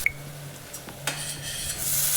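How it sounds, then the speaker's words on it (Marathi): Onion is stirred into a sizzling tempering of green chillies and curry leaves in a pan: scraping and clinking of a spoon against the pan over a steady low sizzle that builds toward the end. "आता फोडणी झाली की हलवून घ्यायचं आणि सोबत कांदा घालायचा"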